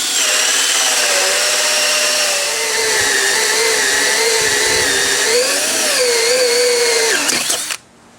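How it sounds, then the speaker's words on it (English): A power drill bores a dowel hole through a wooden board for a homemade catapult, a loud, steady, close motor whine that shifts slightly in pitch as it bites, then cuts off abruptly near the end. "I can drill a hole for the dowel that is going to be part of the catapult"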